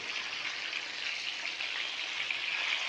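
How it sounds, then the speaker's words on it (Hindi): Pieces of rohu fish fry in oil in a pan, giving a steady, soft, even crackling sizzle throughout with no voices. "एक तरफ से फ्राई हो गई है, अब दूसरी तरफ से भी ये 3 से 4 मिनट हम फ्राई करेंगे"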